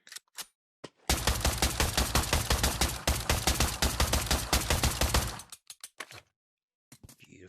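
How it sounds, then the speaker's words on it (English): Tactical SMG fired in sustained full-auto bursts in the Pavlov VR shooting game, a loud, dense rattle lasting about four seconds, with a few single shots before and after the stream. "Tactical SMG."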